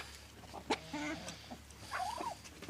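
Old hens cluck and murmur nearby in short, scattered calls, with a few higher squawks and soft rustling in a quiet yard.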